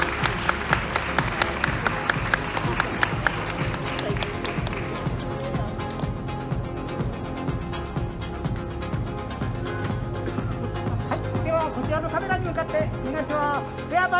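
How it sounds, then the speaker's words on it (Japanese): Audience applause at a women's fitness model awards ceremony at the NPCJ Japan Classic 2020, steady sustained clapping through the hall with an announcer's amplified voice speaking over it. "大きな拍手をお送りください。"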